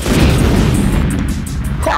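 A cartoon explosion from a laser blast bursts out as a loud, rumbling boom that fills the clip and slowly fades near the end.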